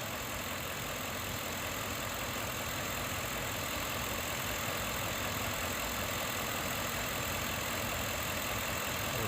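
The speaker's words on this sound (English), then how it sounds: "So I'll let it idle here for a couple minutes" A 2006 Cadillac STS with the 4.6-litre engine, under check-engine and ABS faults, idles steadily with a constant broadband hum and hiss that neither rises nor falls across the stretch, and no voices over it.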